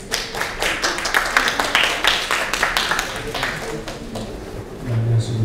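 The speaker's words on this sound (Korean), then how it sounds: "큰 박수 부탁드리겠습니다" Audience applause at a Korean seminar session opening, brisk rhythmic clapping from a room of attendees that builds and then fades, with a voice beginning at the end.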